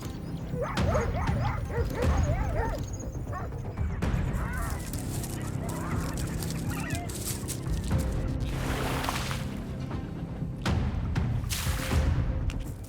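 African wild dogs confront a hyena in the wild, giving a loud, chaotic mix of high yips, whimpers and twittering calls that overlap continuously and end in harsher bursts, with no clear human talk.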